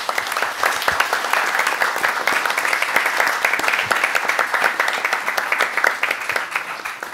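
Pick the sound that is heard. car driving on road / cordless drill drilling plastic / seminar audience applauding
seminar audience applauding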